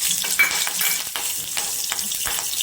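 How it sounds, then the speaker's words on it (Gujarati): Green chillies crackle and sizzle in hot oil seasoned with asafoetida, a steady broadband frying hiss with a few sharper spits and light stirring clatter, close and fairly loud, no voices. "તેલ ગરમ થઈ ગયું છે. આપણે હિંગ નાખીશું."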